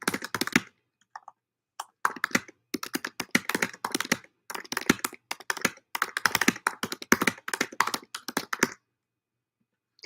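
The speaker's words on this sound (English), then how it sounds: "Just gotta type it right, okay." Rapid clattering keystrokes on a computer keyboard, close and crisp, coming in fast runs separated by brief pauses, with no voices present.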